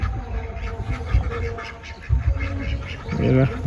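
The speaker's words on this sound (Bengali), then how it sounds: "এই যে হাঁসগুলো ঘরে যাচ্ছে দেখেন" Ducks on a farm quack as they head into their shed on a cold, foggy day, a loose run of nearby calls with heavier bursts near the end and a little talk underneath.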